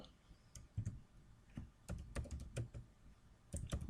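Keys clacking on a computer keyboard as a Cisco or Mikrotik router command is typed, in an uneven run of close, crisp taps with short pauses and a quicker burst near the end.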